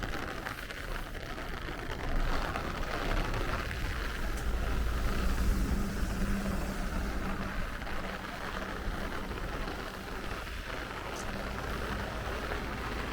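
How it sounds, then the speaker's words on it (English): Heavy rain falls on a Brooklyn street at night, a steady broadband wash of drops and splashing with a low rumble underneath, constant throughout with no talking. "it has been raining since midnight"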